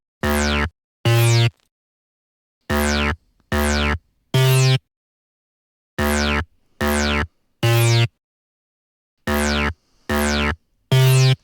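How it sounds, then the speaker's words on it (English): A synthetic bass patch from the Serum synth for a trap beat, playing short, loud, buzzy notes in groups of three with gaps between them, alone with no voice. "Next, this is just this like bass sound from Serum."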